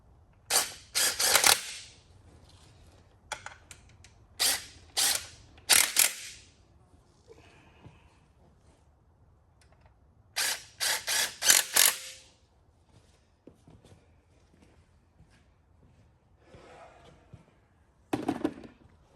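Quick bursts of ratcheting clicks from a wrench tightening bolts during a Firebird car build, coming in several clustered runs separated by pauses, close and fairly loud with no talking.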